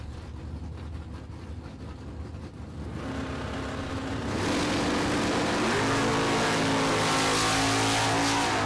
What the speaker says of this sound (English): The red Camaro right. Blue Monte Carlo left.